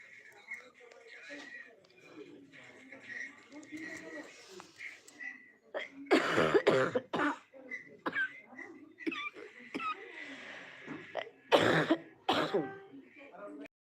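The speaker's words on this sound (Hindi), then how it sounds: "सही हो गई थी खांसी, पता नहीं यही हॉस्पिटल में आके कल से पता नहीं कैसे हो गया" A person coughs and clears their throat amid murmured talk in a hospital, with two loud, harsh coughing bursts standing out close to the microphone.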